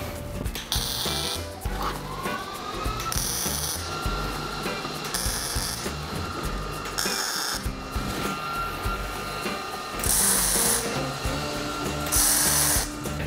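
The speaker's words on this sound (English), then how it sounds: "I'm going to add a few more tacks to the back and also a couple on the front side." Tack welds on a steel PPE storage rack: a series of short, crackling bursts of arc noise, roughly a second or two each and spaced a few seconds apart, set against steady workshop background hiss.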